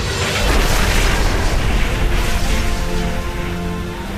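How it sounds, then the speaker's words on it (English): A massive explosion from a runaway train crash roars as a dense, sustained broadband rumble, loud and continuous for several seconds with no voices. "The whole world seemed to explode. It was like a mini atom bomb."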